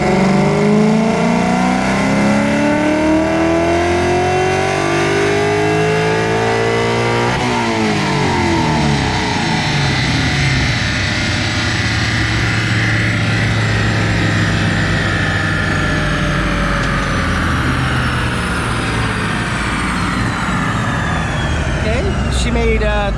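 A Gen 1 Coyote V8 swapped into a Foxbody on E85 revs hard on a dyno, a loud sustained engine roar climbing in pitch, dropping back and building again through a long pull.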